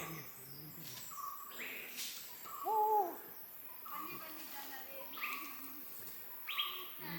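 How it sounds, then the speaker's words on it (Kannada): Birds call sporadically in a quiet forest on the trek to Kudlu Theertha waterfall, including a soft hooting call and short chirps, with faint insect buzz underneath. "ಪಕ್ಷಿಗಳ ಸದ್ದು ಕೇಳ್ತಾ ಇದೆಯಾ?"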